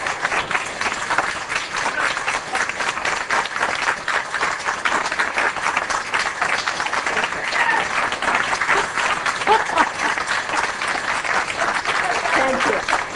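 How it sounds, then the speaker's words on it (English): Audience applause after a speaker's remark, dense continuous clapping from a sizeable crowd, loud and sustained for the whole stretch with no voice over it. "applause till the end."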